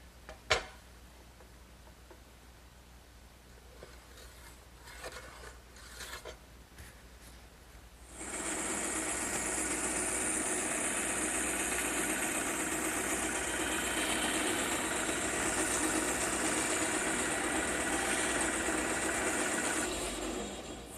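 A bandsaw in a woodworking shop starts after a stretch of quiet clicks and handling noises, then runs with a steady, loud, hissing whir for roughly twelve seconds, with no talking.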